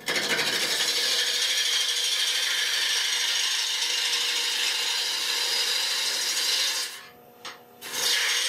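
Woodturning ring drive center being tightened, with a loud, steady, rasping mechanical grind that runs for about seven seconds before briefly cutting out and then resuming.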